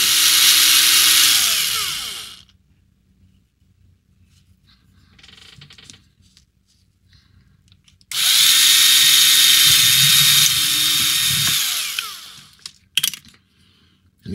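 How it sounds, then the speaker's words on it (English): A small power drill whirs loudly into a plastic scale model in two long bursts separated by a quiet pause with faint handling sounds, then a few short clicks. "we're going to drill in and then we're going to snip around"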